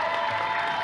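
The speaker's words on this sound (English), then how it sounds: "You can clap if you'd like." A brief, steady wash of clapping from a crowd at a Borderlands 3 gameplay demo presentation, continuous and fairly even throughout.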